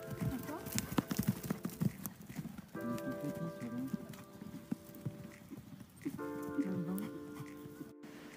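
Horse hooves clip-clop in a steady gallop during a riding lesson, close and fairly loud, with occasional whinnies and a rider's voice talking over it.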